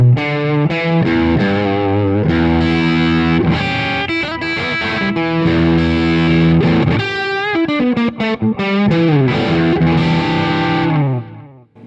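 An electric guitar on a drive channel and bridge pickup plays chords and riffs with heavy overdrive, sustained distorted notes with a bright, cutting edge, loud and alone.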